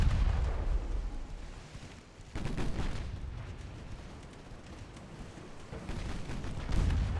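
Heavy naval gunfire hits a ship in the video game Ultimate Admiral Dreadnoughts during an 1895 French campaign battle near Thailand. Deep booming impacts stand out over a steady rumbling roar, with a sharp blast early and another near the end.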